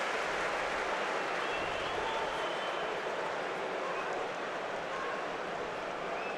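Newcastle fans applaud steadily throughout a pre-season friendly against Athletic Bilbao, a broad, even crowd wash of clapping from a large stadium audience, with no standout individual voices.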